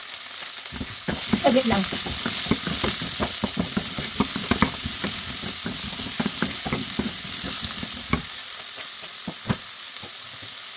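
Chicken pieces fry in oil in a pan for kung pao chicken, a steady close sizzle with stirring clicks and scrapes throughout, while a voice speaks briefly.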